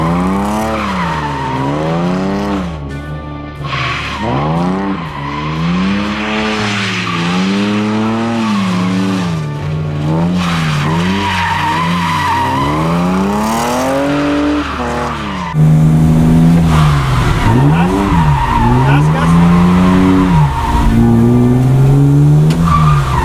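Car drifting through right and left turns with the handbrake, engine revving loudly and rising and falling while tires squeal and skid continuously, close and dominant with no talking.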